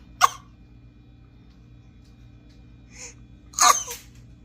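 A young girl forces two short, sharp fake coughs, spaced a few seconds apart, close to the microphone in a quiet room with a low background hum.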